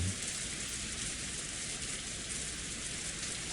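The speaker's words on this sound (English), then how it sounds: "silent but for the sound of the falling rain" Steady rain falls over a rose garden at night, a dense, even hiss of drops with no other sounds, holding at one level throughout.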